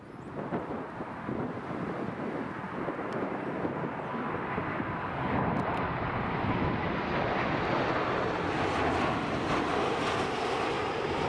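A passenger airplane on approach to Newcastle Airport, heard outdoors as a steady, broad roar that swells and holds loud throughout, mixed with gusty wind buffeting the microphone.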